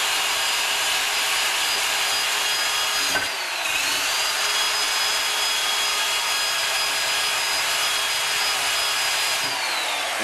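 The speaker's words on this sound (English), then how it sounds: "Now you can also use a drill with a steel brush attached to a drill." A drill spinning a steel wire brush polishes copper plating, a steady high whirring hum that runs continuously, dips briefly once, and carries on with a faint grinding scratch, no voices.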